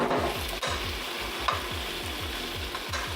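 Cherry tomatoes and leeks sizzle steadily in a pan over medium heat, with a rhythmic run of close stirring scrapes repeating about every third of a second throughout.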